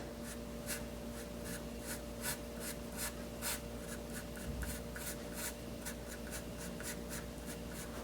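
Pencil making short, light sketching strokes on paper for a portrait eye study, a quick run of soft scratchy rasps close up over a faint steady background hum.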